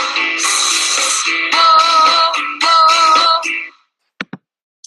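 A singer demonstrates a pulse vibrato exercise, a bright sustained sung tone with deliberate pulsing pitch wobbles across several held notes for nearly four seconds, followed by brief clicks.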